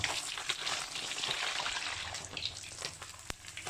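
Steady oil sizzle and crackle from fish frying in a pan, continuous and close, with a few sharper pops and scrapes throughout.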